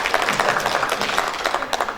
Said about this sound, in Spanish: Un aplauso para él, ¿verdad?